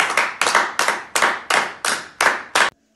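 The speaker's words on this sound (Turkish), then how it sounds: "tüm sağlık çalışanlarımızı alkışlıyoruz" Applause for health workers from balconies at 9 p.m., heard as about eight loud, close, rhythmic hand claps with short echoing tails, then a sudden stop.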